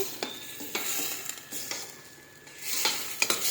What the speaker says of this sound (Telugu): ఇప్పుడు రొయ్యలు వేగిపోతున్నాయి కదా